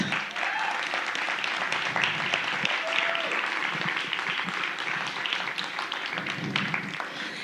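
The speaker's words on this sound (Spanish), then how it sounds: "Dale fuerte el aplauso a mi Dios" A church congregation applauds during a worship service, a steady, dense wash of clapping that carries on for several seconds, with a few voices mixed in.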